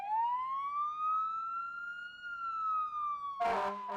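A single long fire truck siren tone rises and slowly falls, loud and sustained, then a short burst of noise cuts in at the end.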